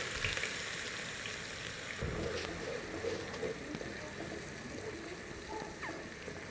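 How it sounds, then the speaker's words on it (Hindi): Chopped onion frying in hot cooking oil for kadhi pakora, a steady soft sizzle and crackle that runs throughout at a moderate, close level with no talk over it. "जब कुकिंग ऑयल गर्म हो जाए तो आपने इसके अंदर एक प्याज डाल देना है"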